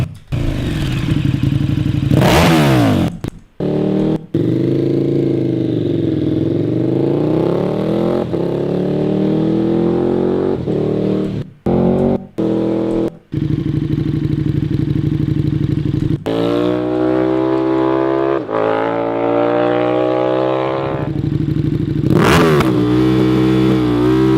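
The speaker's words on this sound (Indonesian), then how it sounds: "Masih bagus suara Austin Racing sih." A KTM motorcycle fitted with an Austin Racing exhaust drones and revs up and down nearby, with several sharp cutoffs and gear changes before the engine climbs again.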